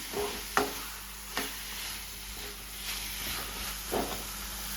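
Chickpeas are stirred into a gently sizzling masala in a pan, a soft steady frying hiss with a few scattered spoon knocks, close by and without voices.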